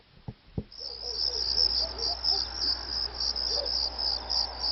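Crickets chirp steadily as a sound effect, a continuous high trill that fills the clip, opening with two soft knocks.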